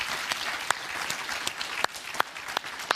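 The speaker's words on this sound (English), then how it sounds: "You deserve a round of applause for that." Studio audience on the Divorce Court television show breaks into a round of applause, steady crowd clapping at moderate distance with a few sharp, louder individual claps standing out.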